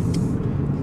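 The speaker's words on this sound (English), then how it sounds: "Okay, so let's drive the ASX." A 2017 Mitsubishi ASX 2.2 DID 4WD automatic drives along, its steady low engine and road rumble heard briefly from inside the cabin.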